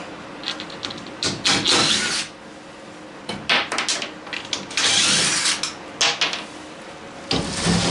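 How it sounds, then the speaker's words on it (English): Screws are backed out of a car seat mount while adding third-row seating, with loud close-up ratcheting bursts from a hand tool, brief pauses between runs, and metallic clicks and knocks. "We lift that back up, and we'll pop those 2 screws out."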